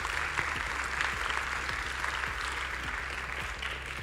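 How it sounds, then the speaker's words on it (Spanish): Sustained audience applause at a science and ideas congress on stage, steady dense clapping filling the whole stretch at an even level, without speech. "un aplauso para Arturo."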